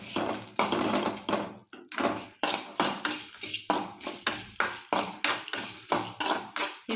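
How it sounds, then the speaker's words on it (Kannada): Dry chillies tossed and stirred in a hot pan with no oil, a repeated rhythmic scraping and clattering of a utensil against the pan, close and steady, with no talk. "ಈಗ ಮೆಣಸಿನ್ಕಾಯಿ ಹಾಕ್ಕೊತಾ ಇದ್ದೀನಿ."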